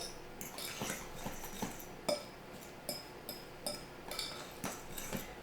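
A utensil scrapes and clinks against a bowl while TVP meatball mixture with nutritional yeast and tamari is stirred, producing irregular close taps and clanks in an otherwise quiet kitchen.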